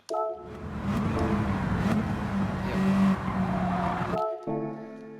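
A race car in Gran Turismo 7 at the Red Bull Ring brakes and drops gears, engine note falling with a brief tire squeal, then cuts to a steady tone again near the end; loud and close, with no talk.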